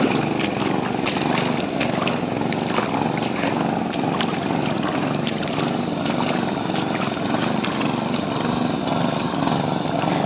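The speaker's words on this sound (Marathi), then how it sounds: "तिकडे पिंटे आहे, ट्रॅक्टरने नांगरतो" A tractor ploughing a flooded rice paddy in the Konkan countryside, its engine droning loud and steady close by, unbroken throughout with no talk.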